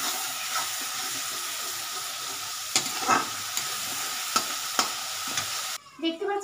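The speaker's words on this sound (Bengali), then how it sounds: "এটা সাতলাম" Spices sauté in a pan over a gas flame with a steady sizzle, a few scattered stirring scrapes and clinks, then a sudden drop in the hiss near the end.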